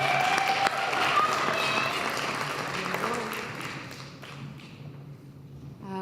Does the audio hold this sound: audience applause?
yes